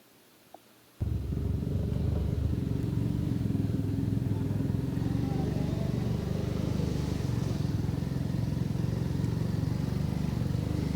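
A motorcycle loaded with about four riders rumbles steadily along a street, its engine kicking in loudly after a second of near-silence and holding a dense, continuous drone to the end.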